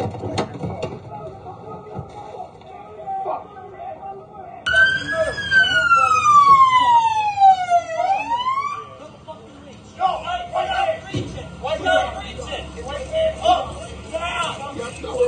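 A police siren wails loudly after a stolen car crashes into the police car, sweeping down in pitch over a few seconds, amid distant crowd noise and other faint city sounds.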